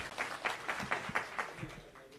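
A rally crowd in Kajiado claps for former PS Lesiampe: a short burst of fairly faint, rhythmic, evenly spaced claps, heard from a distance.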